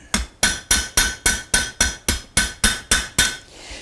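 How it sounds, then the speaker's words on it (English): Eleven sharp, evenly spaced hammer strikes ring out in a steady rhythm as rivets are set into a forged barbecue spoon, each blow close and loud with a metallic ring, the last one trailing off. "now I'll get a little aggressive with putting those rivets on."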